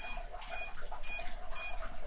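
Repeated electronic beeping from a Pavo 25 V2 drone gimbal, a cluster of bright tonal bursts in quick succession over a steady background hum, fairly close and moderately loud.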